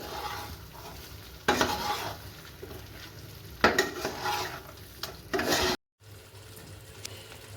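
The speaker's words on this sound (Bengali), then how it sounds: "এবার এগুলো সব একসঙ্গে নাড়িয়ে নেব।" Onions and ground spices are stirred in a frying pan for a chicken dak bungalow curry, with a steady sizzle and several louder scraping bursts of the spoon against the pan, ending with a brief gap.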